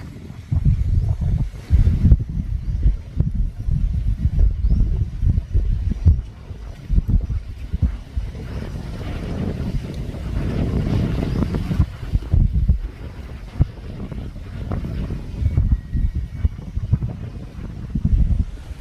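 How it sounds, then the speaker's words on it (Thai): Wind blowing across a field of Siam tulip flowers in Sai Thong National Park, Chaiyaphum, Thailand, buffeting the microphone as a steady, heavy low rumble with gusty surges throughout and no voices. "โอ้ยลมทุกคน โอ้ชื่นใจอ่ะ รับลมก็ชื่นใจแล้ว"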